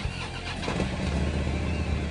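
A new 2013 Harley-Davidson FLHRSE CVO Road King motorcycle fires up at a dealership, its engine catching with a loud, rumbling burst that settles into a steady throbbing idle.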